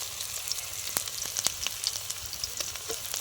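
Ginger garlic paste frying with lightly browned onions in a pan for a Bengali pomfret curry, a soft steady sizzle with a few sharp pops and crackles, close by and fairly quiet, with no talking.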